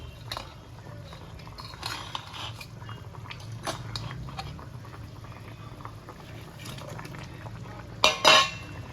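Rice boiling in a pot gives a soft, constant bubbling simmer close by, broken by a few light clinks of utensils and a louder metallic clatter near the end.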